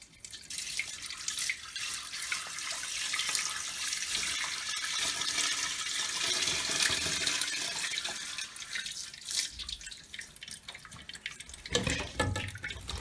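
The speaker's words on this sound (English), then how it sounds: "I'm going to go ahead and just dump it right down the toilet drain." A bucket of water drained from a copper pipe is dumped down an open toilet drain, a steady rushing, splashing pour lasting many seconds, followed by a few closer clunks and drips.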